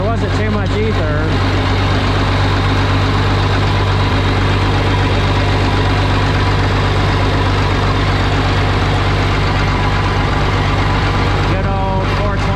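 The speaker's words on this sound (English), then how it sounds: "it runs and burns diesel and it's straight piped on the turbo and it's loud and smoky when cold." Straight-piped, turbocharged Allis-Chalmers 426 diesel engine idling loudly and steadily with a deep, constant rumble throughout, close to the microphone.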